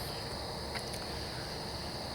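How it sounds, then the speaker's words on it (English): Crickets chirp steadily in a quiet rural night setting with no traffic, a dense continuous high-pitched trill that stays even and fairly close throughout. "frogs and crickets are chirping"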